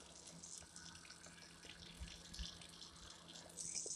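In a video game, water runs like a tap or shower, a faint steady stream with light splashy texture that grows slightly louder toward the end, with no speech.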